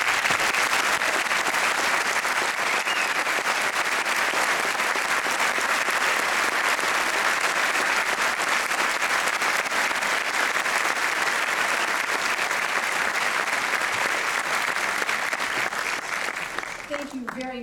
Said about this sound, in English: we need to say thank you to you with a round of applause